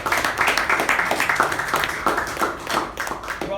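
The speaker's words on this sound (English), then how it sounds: "Can we have a loud round of applause for Toastmaster and the Gaurav?" A roomful of people at a Toastmasters club meeting claps for a speaker. The quick, overlapping hand claps are close and lively and carry on steadily for several seconds.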